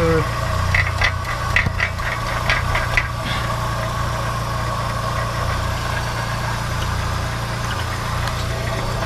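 A Volkswagen Golf 1 Cabriolet engine idles steadily with a low continuous hum and a metallic rattle from the catalytic converter, with brief louder clanks early on, heard close up.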